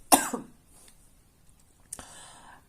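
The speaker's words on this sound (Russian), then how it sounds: "потом буду кашлять" A woman coughs and clears her throat in a short burst near the microphone, then gives a single quieter cough a moment later in a quiet room.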